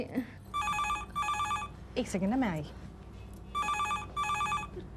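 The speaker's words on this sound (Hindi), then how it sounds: "फोन की घंटी भी अभी बजनी थी" A telephone bell rings in repeated double bursts inside a home, loud and close, while someone speaks briefly between the rings.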